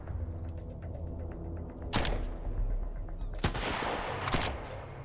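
Shots from a new sniper rifle in the survival game Sunkenland while attacking Cliffton Outpost: two sharp, fairly loud cracks a second or so apart over a steady low rumble of background game noise.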